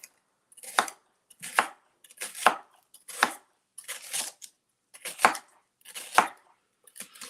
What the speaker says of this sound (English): So let's chop up some red onion.